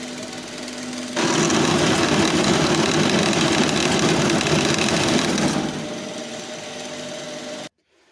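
A band saw runs with a loud, steady whine and a rough buzzing edge for several seconds while cutting, then drops to a lower hum before stopping abruptly.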